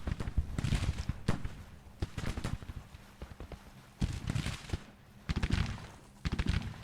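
Rifle volleys crackle in a Civil War battle game set in 1864, arriving as bursts of sharp, overlapping shots with pauses between them, some near and loud, others thinner and more scattered.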